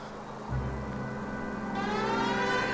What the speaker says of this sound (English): I got all the power invested in me to make the siren go off.